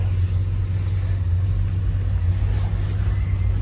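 A 1965 Ford Galaxie 500 rolls along a road, its engine giving a steady, deep, close rumble with slight swells in revs throughout, and no voices over it.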